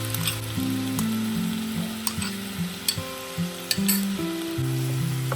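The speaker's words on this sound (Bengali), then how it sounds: "তেল গরম হলে এবার সেই ম্যারিনেট করে রাখা আনারস কিউবগুলো কড়াতে অ্যাড করে দিলাম।" Marinated pineapple cubes fry in hot oil in a wok, giving a steady, close sizzle with occasional crackles and soft stirring knocks under background music.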